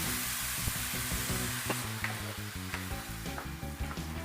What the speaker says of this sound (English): Now add your wine and let the rice absorb it while you keep stirring.